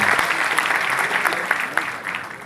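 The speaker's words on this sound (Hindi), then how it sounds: "जोरदार तालियां बजाएं।" Audience applause at a Hindi motivational speaking event, a dense, steady burst of clapping from a crowd lasting a couple of seconds.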